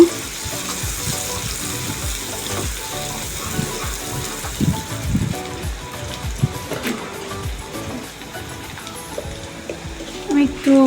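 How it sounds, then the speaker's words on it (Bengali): Onion fries in hot oil until light brown for a pangas fish curry: a dense, steady, close sizzle with crackling spatter that runs without a break and swells louder near the end. "পেঁয়াজটা দিয়ে আমি একটু হালকা ব্রাউন করে ভেজে নিব"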